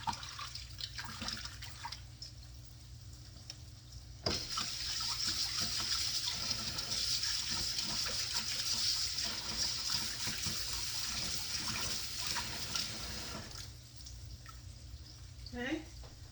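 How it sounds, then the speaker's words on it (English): Tap water runs steadily in a home kitchen sink while hands are rinsed mid-recipe, a continuous splashing gush lasting about ten seconds before cutting off, with kitchen clatter around it. "Let me rinse my hands 1 second."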